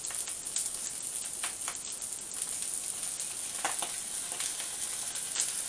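Black bean sauce hits a hot pan of stir-fried duck and mixed vegetables, giving a steady, loud, hissing sizzle that runs unbroken for several seconds with no talking.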